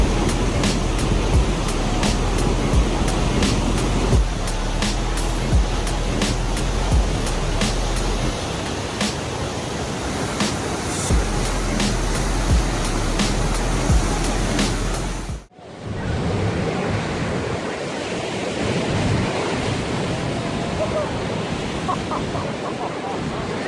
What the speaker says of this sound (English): You can enjoy these massive waves in the Spanish city of San Sebastian.